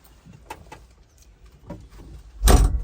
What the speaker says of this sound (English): So I'm going to shut the door here